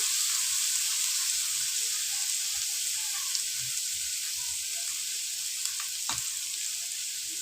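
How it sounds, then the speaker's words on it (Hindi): Chicken pieces frying in a pan for spring roll filling, a constant loud sizzle with faint scattered pops and one sharp utensil tap late on, no talking. "थोड़ा सा ये चिकन फ्राई हो जाए, ज़रा क्रिस्पी सा हो जाए"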